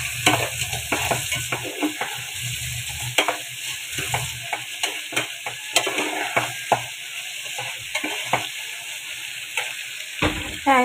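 Lentils (dal) sautéing in a pot make a steady close sizzle, with frequent clicks and scrapes of a utensil stirring against the metal.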